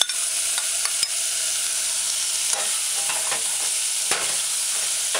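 Soaked chickpeas stirred in a pot of sizzling oil, a continuous bright hiss with a few soft scraping and clicking strokes of a spoon, close and steady, no talk.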